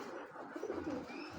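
Pigeon giving a quiet, low rolling coo that rises briefly in the middle, heard close and alone without speech.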